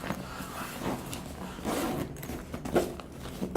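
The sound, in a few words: zipper on a DICOTA backpack being opened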